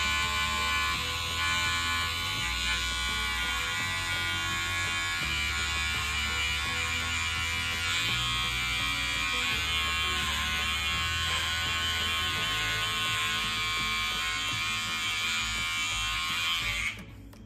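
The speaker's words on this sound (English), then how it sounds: "you can see how much more control I have with the smaller width in the beard trimmer as compared to the regular clippers" An electric beard trimmer cuts retro pin-up style bangs, its bright, close buzzing motor droning steadily with slight pitch shifts as it meets hair, then switching off right at the end.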